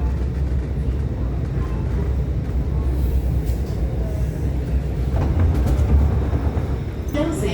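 An SMRT R151 train runs on Singapore's North South Line, heard from inside as a steady loud rumble of wheels and motors with faint rattles, continuous throughout.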